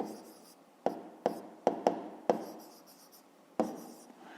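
Pen scratching across paper, worked through in a steady run of strokes with short taps and pauses between them, close and clear in a quiet room with no talking.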